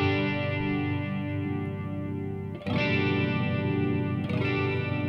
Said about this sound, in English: The low rate adjusts the speed of the chorus effect by low frequency range.